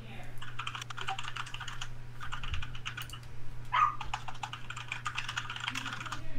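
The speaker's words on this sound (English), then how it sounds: "Ooh, all the typing." Rapid computer keyboard typing clicks on in bursts close to a very sensitive microphone, with a steady low hum running underneath.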